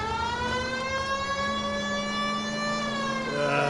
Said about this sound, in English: siren time.